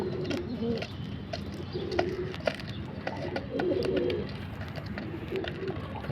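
Several Jalali pigeons cooing nearby in soft repeated throaty bursts, each coo rising and falling over a low background hum with scattered clicks and flutters, no speech.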